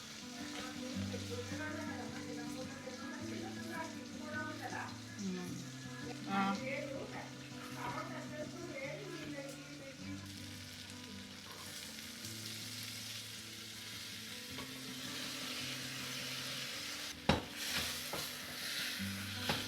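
Vegetables fry and sizzle steadily in a pan in a home kitchen, with occasional stirring and a sharp clatter near the end, over a low background hum.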